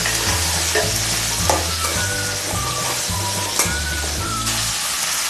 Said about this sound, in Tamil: இப்போ இதை சேர்த்து நல்லா வதக்கிக்கலாம்.